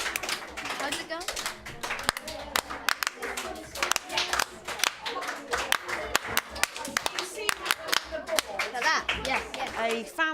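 Children clap a four-bar fanfare rhythm together in a classroom music lesson: sharp, dense hand claps repeat in a steady pattern for about ten seconds, with voices murmuring underneath.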